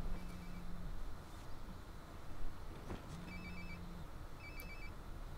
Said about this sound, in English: Oh, phone call.